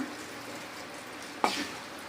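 Soft, steady sizzle of tempering seeds, dried red chillies and asafoetida frying red in hot oil, with a sudden sharper burst of hissing partway through, no talking.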